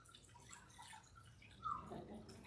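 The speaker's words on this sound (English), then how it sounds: "you hear the water dripping" Water drips faintly in a quiet space after a baptism, with one brief clear drop standing out over a low hush.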